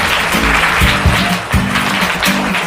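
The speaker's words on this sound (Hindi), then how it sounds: "जोरदार तालियां हो जाए इनके लिए" A burst of studio audience applause on a quiz show, dense clapping from many hands that swells and dips in waves, with loud low thuds mixed in.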